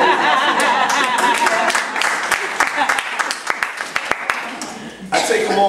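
A dense, roaring crowd at a church rally in Atlanta chants and claps. Sharp hand claps rise out of the continuous wall of voices, which stays loud and close throughout before briefly thinning near the end.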